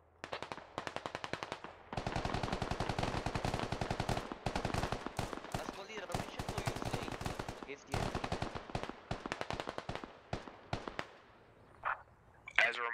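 Sustained enemy gunfire in the Squad military video game: rapid, loud automatic bursts rattling almost continuously for several seconds, then thinning into scattered single shots, with a voice speaking briefly.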